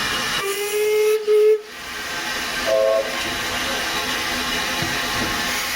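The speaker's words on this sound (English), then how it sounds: "Number 18's safety valves blow off as the boiler pressure exceeds the 170 pounds per square inch working pressure of the boiler." Safety valves on steam locomotive No. 18 blow off as boiler pressure passes 170 psi, a steady roaring hiss that holds throughout, broken briefly by short whistle tones at a heritage railway winter gala.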